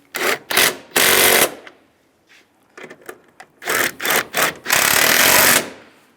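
Close and loud, a power tool hammers bolts tight on a 2007–2013 Chevy Silverado during a heater core replacement, firing in several sharp rattling bursts with a pause between two groups.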